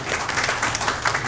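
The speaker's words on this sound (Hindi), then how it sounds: "भरपूर तालियां जी" Brief burst of dense audience applause at a stage event honoring a Pakistani advocate, a crowd clapping steadily and fairly loud for about a second.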